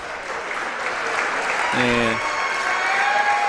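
A crowd of students cheers and applauds in a gym at a girls varsity basketball game, a broad, sustained roar with a brief voice cutting in.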